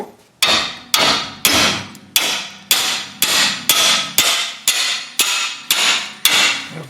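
A hammer strikes a corroded rear brake rotor on a 2005 Chevy Trailblazer about a dozen times in a steady rhythm, each sharp clang ringing out briefly before the next blow.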